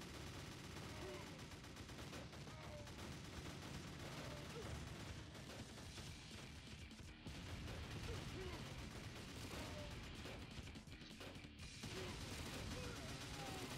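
Dense, continuous gunfire and explosions from a battle in the video game Crysis, with a sniper picking off enemy soldiers amid machine-gun bursts and artillery; the din is loud and unbroken throughout, with faint voices mixed in.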